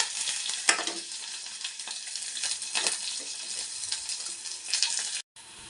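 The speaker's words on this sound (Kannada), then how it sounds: "ಇವಾಗ ನಾನು ಬೆಳ್ಳುಳ್ಳಿ, ಒಣಮೆಣ್ಸಿನ್ಕಾಯಿ, ಕರ್ಬೇವಿನ ಸೊಪ್ಪು ಹಾಕ್ತಾಯಿದ್ದೀನಿ" Garlic, dried red chillies and curry leaves frying in tempering oil, a busy close-up sizzle with sharp crackles and spits throughout, briefly dropping out near the end before resuming faintly.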